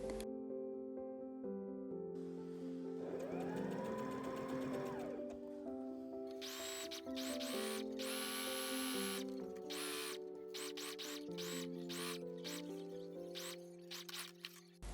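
A home sewing machine stitches the hem of a shirred cottagecore dress, its motor running in steady bursts of rapid stitching with short pauses between runs, close and clear over soft background music, no talking.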